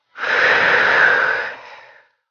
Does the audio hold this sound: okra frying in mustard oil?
no